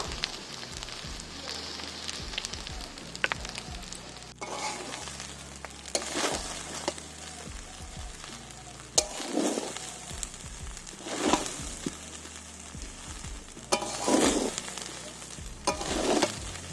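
Cooked rice drizzled with ghee is stirred and tossed in a hot pan for fried rice: repeated scraping spatula strokes over a steady sizzle, fairly close and clear.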